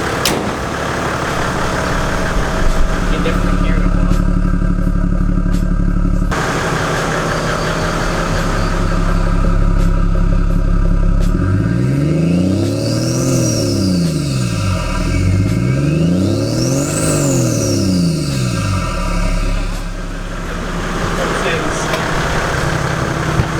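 A turbocharged car engine with a pod air filter idles and then revs several times, with loud, close induction whoosh and rising and falling turbo whistle. Voices talk now and then under the engine.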